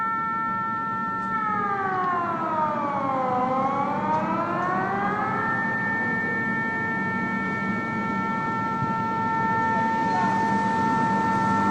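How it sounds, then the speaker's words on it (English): Civil defense air raid sirens wail across Bahrain, a loud multi-tone howl that dips in pitch, rises again and then holds a long steady tone over a constant background hum. "Looks like Bahrain sirens."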